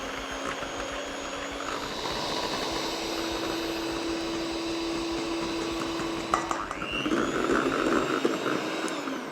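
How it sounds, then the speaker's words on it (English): Electric mixer whirring steadily on low speed while beating birthday cake batter, a constant motor drone with a rising whine, shifting to a rougher churning tone near the end. "And we're going to beat this for a couple of minutes until all of that powder is dissolved. And we'll just do this on a low speed."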